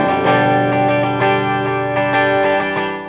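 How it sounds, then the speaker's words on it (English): Crisp, slightly gritty electric guitar chords through an EarthQuaker Devices Acapulco Gold distortion pedal, a colored clean tone ringing out loud and steady with a few strummed accents over about three seconds. "I've actually got some very crisp sounding, somewhat gritty chords, but with a pretty good, just colored, clean tone"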